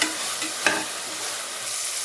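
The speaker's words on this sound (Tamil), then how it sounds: "வெங்காயம் தக்காளி நல்லா வணக்கிக்கலாம்" Onions and tomatoes sizzle steadily in a hot pan, with a brief scrape of stirring partway through.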